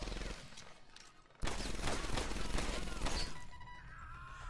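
Gunfire in Medal of Honor Airborne: a sudden loud stretch of rapid automatic shots with crashing impacts, close and dense for about two seconds before easing into lingering battle noise.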